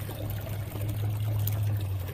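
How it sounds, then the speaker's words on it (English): Meltwater trickling and flowing down into a partly thawed, icy garden pond in Canada in late November, a steady close pouring stream with a low continuous gurgle and no voices. "large parts of the bottom pond, you can see where the water flows down, have now melted."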